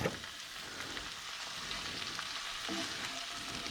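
Chopped tomatoes hitting hot onion masala in a pan, giving a steady, fairly quiet crackling sizzle that carries on evenly with no speech.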